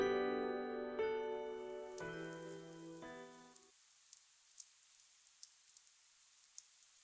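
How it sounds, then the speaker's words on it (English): Rain falls softly in Fate/Stay Night Remastered: a faint, steady patter with scattered distinct drops, heard first beneath a fading sustained musical tone and then alone. "I wake to the sound of rain."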